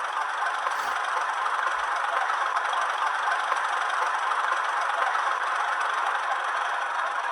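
A Hornby Class 31 diesel-electric model locomotive from 2023 with an HM7000 DCC sound decoder revs up, giving a loud, steady, rattling engine drone that runs unbroken with no talking.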